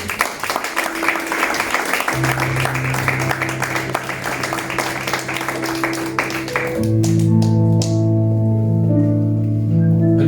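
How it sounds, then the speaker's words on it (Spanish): Steady congregational applause in a church runs for several seconds, then sustained keyboard chords swell up and take over as the clapping thins out. "¿Quién puede aplaudir?"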